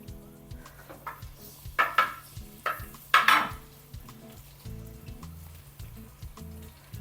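Chopped ginger drops into hot oil in a pan, with a soft steady sizzle under repeated stirring scrapes and clinks, louder bursts in the middle, close and without talking.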